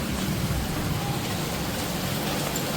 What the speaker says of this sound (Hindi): अभी देखो कितनी झमाझम बारिश हो रही है।